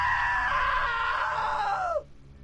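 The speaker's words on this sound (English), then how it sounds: "Now that was a great scream." A woman's long, loud scream in the video game What Remains of Edith Finch, sustained and close for about two seconds before cutting off sharply, with no talking.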